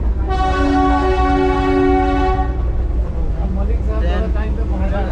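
The Darjeeling toy train sounds a long, loud horn blast as it pulls out of Darjeeling station, followed by voices and station bustle once the horn stops.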